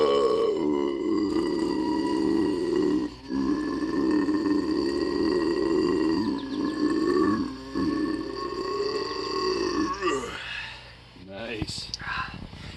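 A long, loud, deep burp after chugging Fanta Pineapple from a boot-shaped glass, a sustained guttural rumble lasting many seconds with brief breaks, ending in a rougher croak.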